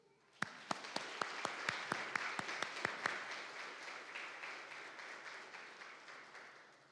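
A church congregation at Sunday Mass claps, starting with a few distinct sharp claps that quickly swell into soft, fairly distant applause, sustained then slowly thinning.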